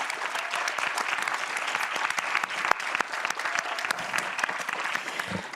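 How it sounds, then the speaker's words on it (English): A climate adaptation forum audience claps for the event organisers, with dense, steady applause throughout and a few sharper individual claps standing out. "Can we just do claps to you, to Irene and Stephanie?"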